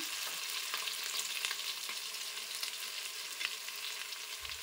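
Masala with chili powder and salt frying in a pan for a Telugu pomfret fish curry: a dense, even sizzle with soft stirring scrapes, close and continuous, no talk.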